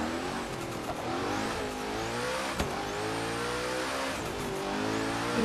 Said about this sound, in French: Je m'amuse à faire du drift.